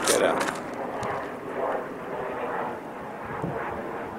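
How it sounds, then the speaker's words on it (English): Jet planes pass high overhead on a desert hiking trail at Signal Hill in Picture Rocks, Arizona, a steady distant roar mixed with wind buffeting the microphone. "There's jet planes flying over."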